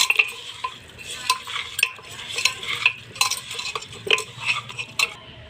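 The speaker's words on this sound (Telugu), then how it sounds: "దీన్ని మిక్స్ చేసుకుందాం బాగా చేయితో కలుపుకుందాం" Goat leg meat gets mixed by hand in a bowl, producing wet squelching and slapping pats in an irregular rhythm with occasional clinks, close and without talk.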